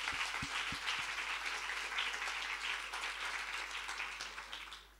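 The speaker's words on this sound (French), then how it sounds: "On peut s'applaudir parce que ça fait du bien." Workshop participants applaud themselves in a room, a steady burst of mixed clapping from a small group that holds throughout and fades away toward the end.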